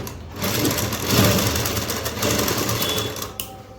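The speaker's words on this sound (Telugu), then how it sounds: "ఇక్కడ పెట్టేసుకొని అనేది కొంచెం అలా కుట్టు వేసేసుకోవాలి" Sewing machine stitching lace onto a dress, a steady, continuous mechanical whirr with a fine rapid rattle, close and fairly loud throughout with slight swells in intensity.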